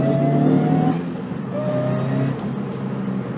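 A supercharged Subaru BRZ accelerates hard as heard from inside the car, a loud, steady engine roar that climbs in pitch, drops briefly at a gear change and then rises again.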